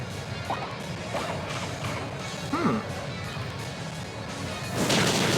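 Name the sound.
Sludge Bomb attack effect in Pokémon video game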